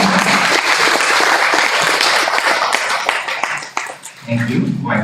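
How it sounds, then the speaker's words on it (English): Audience at a doctoral promotion session applauding the commentator, dense clapping from many hands filling the room, thinning out near the end as a voice comes in. "I would like to invite you to take big applause to the commentator"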